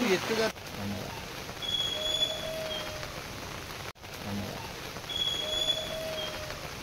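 Steady rain pours down during an outdoor Hindu worship in Odisha tied to the Shri Gundicha temple, a dense continuous hiss close by, broken by a brief dropout near the middle.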